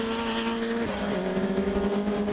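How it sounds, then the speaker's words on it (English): Saloon race cars roar around a circuit at a Scottish race meeting, engines howling close by with a sharp pitch drop as one passes, a dense steady motor din throughout. "Up his inside goes Robert Drummond in 29 and Paul Neville in the RS2000."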